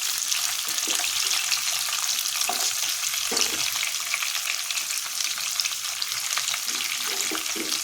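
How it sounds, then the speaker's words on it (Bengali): Chopped onion frying in a pan for a soya chilli dish, a loud, continuous sizzle with occasional scraping stirs, close and without talk. "এবার দিচ্ছি আমি পেঁয়াজটা।"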